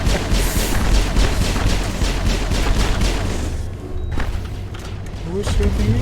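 Gunfire from the video game Mass Effect rattles in dense, rapid bursts with heavy thuds, loud and continuous, dipping briefly before resuming, with voices talking over the combat.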